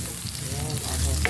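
Garlic fries in a hot pan for a bitter gourd omelette dish, giving a steady close sizzle with faint stirring scrapes and no talk.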